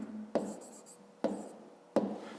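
Pen or marker strokes writing numbers during a fifth-grade math exercise, three short scratchy bursts spaced about a second apart, close and quiet with no talk.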